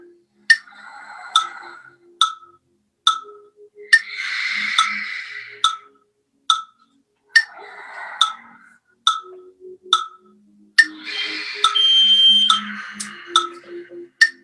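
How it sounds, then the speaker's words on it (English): A timer alarm sounds during an exercise session, sharp regular ticking beeps repeating about every half second, with bursts of louder buzzing tone in between, loud and close. "I'm going to turn off my timer now."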